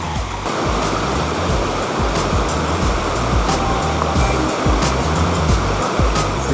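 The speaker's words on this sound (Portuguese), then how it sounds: "Vocês estão vendo eu subindo ali para ficar tomar um banho embaixo da cachoeira?" Cachoeira dos Gregolins, a jungle waterfall in Alta Floresta D'Oeste, Rondônia, pours with a loud, continuous roar heard up close, with no talk over it.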